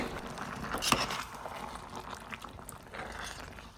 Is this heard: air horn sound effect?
no